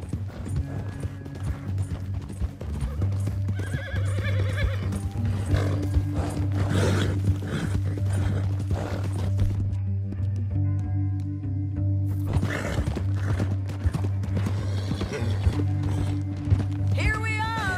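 Horse hooves in Red Dead Redemption 2: a steady clip-clop rhythm over a low droning background and music, with brief bursts of other game sounds.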